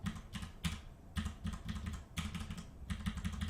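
Keyboard shortcuts tapped out on a computer keyboard, with quick clusters of sharp key clicks coming in irregular bursts and brief pauses. The typing is close and fairly quiet.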